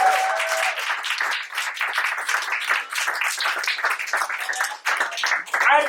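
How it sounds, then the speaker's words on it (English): Applause from an audience at a live poetry night, a dense, steady clatter of many hands clapping close up for about six seconds, with a few cheers mixed in near the end. "Can I get a big round of applause for all the dope poets who went on stage tonight?"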